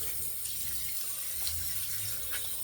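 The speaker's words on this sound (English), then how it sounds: "But we'll rinse off." Tap water running steadily into a sink while rinsing off after a shave, a constant close hiss and splash with slight fluctuations.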